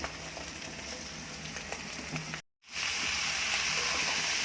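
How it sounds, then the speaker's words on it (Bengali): Pumpkin fries in a pan with a steady, moderate sizzle and hiss; the sound cuts out briefly midway, then returns slightly louder and brighter. "আর এদিকে কুমড়া ভেজে নিচ্ছি"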